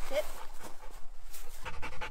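A shelter dog pants in quick, rhythmic breaths close by, the steady huffing running through the whole moment without anyone speaking.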